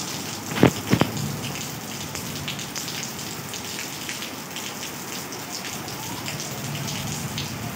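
Heavy rain drums on pooled floodwater and ground near a gate, a steady close hiss broken early by two or three sharp splashing knocks.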